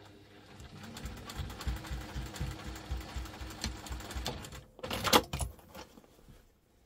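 Up close, a sewing machine stitches a double-compartment crossbody bag with a rapid rhythmic thumping run, then a brief louder clunk and rattle before it settles into quiet.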